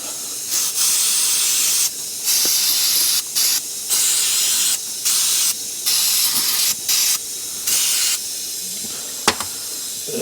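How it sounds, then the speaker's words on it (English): Aerosol cleaner hisses in repeated bursts into the bores of a stuck brake caliper on a 1996 Ford, each spray loud and close, separated by short pauses, with a faint clink partway through. "then I'm going to spray"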